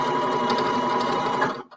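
A sewing machine stitches fabric down over a hole with a loud, steady, close whir that runs unbroken, then stops abruptly just before the end.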